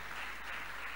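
A church congregation applauds in a brief, dense burst of steady clapping that fills the room evenly.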